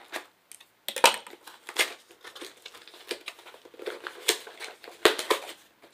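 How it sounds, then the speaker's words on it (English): Scissors and hands working open a skateboard-deck package, close and fairly quiet: a scattered series of crisp snips, crinkles and plastic rustles with short pauses between bursts, no talk. "We're gonna use reliable old scissors."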